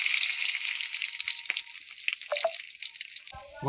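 Mustard seeds spluttering in hot oil for a churuli curry, a loud close continuous crackle and hiss with a few sharper pops, cutting off just before the end.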